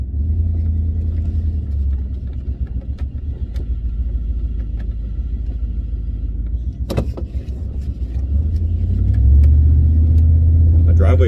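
Truck rolling slowly over a bumpy driveway, a steady low rumble of engine and tires with occasional sharp knocks and rattles from the cabin, engine note rising slightly near the end.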